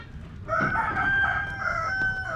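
A rooster crows loudly and close by on a rural farm in Bataan province, one sustained, wavering cock-a-doodle-doo standing alone over faint background noise.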